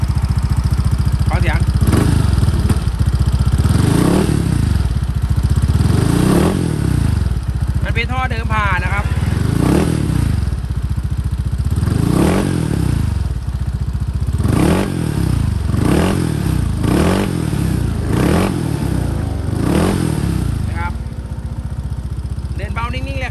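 Close Honda PCX150 scooter engine idling smoothly, then revved repeatedly in a series of rising and falling surges, with a voice talking briefly over it.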